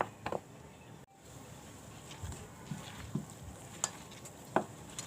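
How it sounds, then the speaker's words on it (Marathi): Besan batter with shredded cabbage for kobi vadi is mixed in a bowl, giving soft, wet, irregular squelching strokes with a few sharper taps of the spoon, quiet and close with no talk. "सगळं मिक्स करून घेते।"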